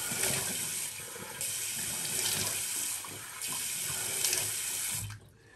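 A tap runs in a bathroom sink while a face is rinsed with cold water after a wet shave, a steady gush broken by splashing scoops before it shuts off at the end.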